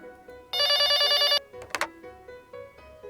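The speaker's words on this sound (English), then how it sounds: "Then the phone rings." A telephone rings in the Yumeutsutsu Re:Master video game, a loud electronic ring lasting about a second, followed by a short beep and a quiet melody underneath.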